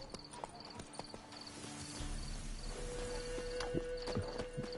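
Hoofbeats of Roach, a horse in The Witcher 3 video game, clop along steadily under game music and ambience, fairly close, with a sustained tone and scattered effects mixed in.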